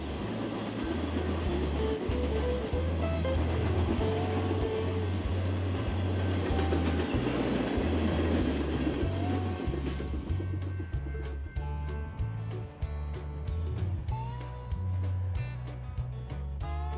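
Norfolk Southern general merchandise freight train passing on a mainline, with a steady low rumble and rhythmic wheel clatter over rail joints, a long continuous pass at moderate volume.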